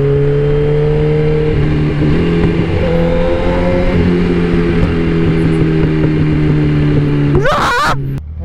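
A motorcycle engine idles and revs steadily up close, holding a strong droning tone with pitch steps as the quick shifter changes gear, then a sharp rising rev burst near the end.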